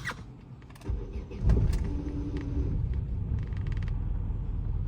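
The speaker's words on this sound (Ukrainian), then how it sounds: "Машина завелася." An Opel Astra G car with an X16XEL engine cranks and catches after a weak battery, then settles into a steady idle, recorded close up.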